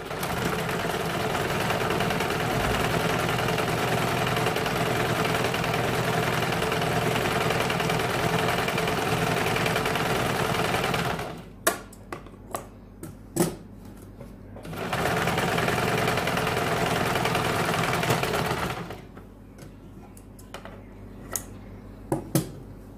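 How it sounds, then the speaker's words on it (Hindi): Sewing machine double-stitching a blouse, loud steady whirring runs close for eleven seconds, stops for a stretch of small clicks and taps, then whirs again briefly before more clicking. "अभी से वापिस हमें डबल सिलाई लगानी है।"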